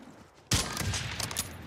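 Rapid gunfire in the video game Call of Duty: Warzone erupts suddenly after a quiet moment and holds as a loud, dense burst of shots with no talk over it.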